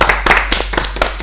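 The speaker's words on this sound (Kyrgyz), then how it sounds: "Асемге кол чаап коелу" Scattered hand clapping on a Bishkek entertainment show, a short burst of distinct close claps from a small group with uneven rhythm.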